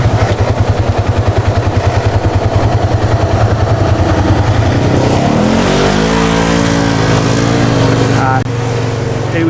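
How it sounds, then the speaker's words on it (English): A Can-Am off-road side-by-side cruises past on a dirt trail, its engine pulsing loudly and close with a rhythmic throb, then rising in pitch as it accelerates by. "We've got another guy cruising through on a Can-Am or something"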